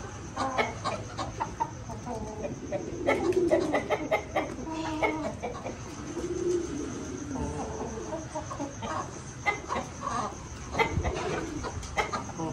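Poultry in a rural yard in Mirpur, Azad Kashmir, with a rooster crowing and hens clucking repeatedly at close range over a constant low background rumble, the calls overlapping in several bursts.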